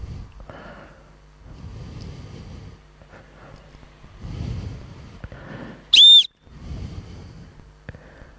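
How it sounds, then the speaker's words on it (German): A dog whistle sounds once, a short, loud, shrill blast during outdoor dog training, amid quiet rustling and low background noise. "Da heute so schön abgelenkt ist, können wir ein bisschen mit der Pfeife arbeiten."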